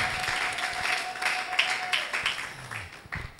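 A church congregation applauds in a steady, dense patter of hands clapping for about three seconds. A sustained hum runs underneath, and a few voices are faintly heard.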